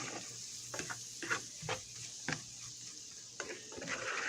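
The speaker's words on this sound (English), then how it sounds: "Now we're just going to mix all that up with the bacon, fry the bacon" Bacon frying with spices in a pan for pea soup gives a low, steady sizzle, with several sharp scraping and stirring knocks scattered across it at close range.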